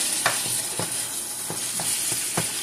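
Beef enchilada filling being stirred and chopped in a pan, giving a series of spaced scraping and tapping strokes over a steady sizzle, close and fairly quiet, with no talking.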